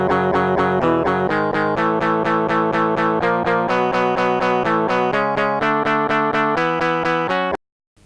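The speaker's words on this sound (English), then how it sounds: "I've made up a little something using guitar chord samples" Guitar chord samples sequenced in the openMPT tracker play a chunky, distorted progression with a rigid, mechanical rhythm over a deep bass line, loud and dense, then cut off abruptly to silence.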